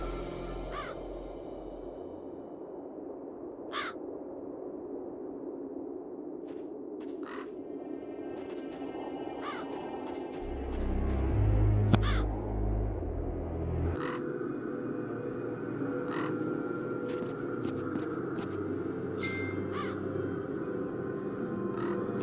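Crows caw in the game The Dark Eye: Chains of Satinav, with harsh calls repeating at irregular intervals over a steady ambient bed and a brief low rumble midway, with no talking.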